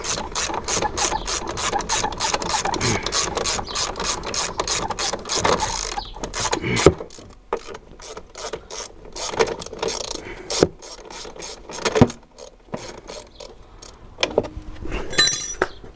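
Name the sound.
ratchet wrench loosening suspension nut on Alfa 166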